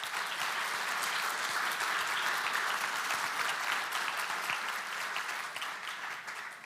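Sustained applause from a conference audience at a stakeholder event, steady and full for several seconds with individual claps audible in the texture, tapering only slightly toward the end.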